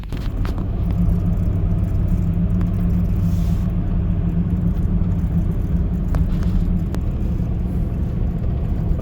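A Dodge Ram pickup truck drives on the road, heard from inside as a steady, loud low rumble of engine and road noise with a few faint clicks and rattles, no talk.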